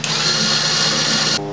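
A power tool drives a guitar bridge pin into place, a steady loud high whine for about a second and a half before stopping abruptly.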